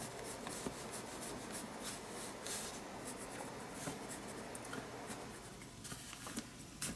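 Steady scratchy rubbing of a pencil moving across paper, continuous soft strokes with no voices, close and quiet.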